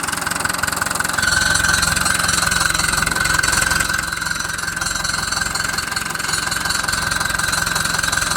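A White Field Boss 2-65 tractor engine idles steadily nearby, a continuous mid-pitched rumble with a faint knocking pulse and metallic rattle, alone without talk.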